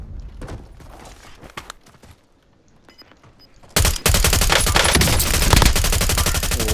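Gunfire in Call of Duty Warzone: scattered faint shots and movement, then a sudden loud burst of sustained rapid automatic fire that carries on to the end.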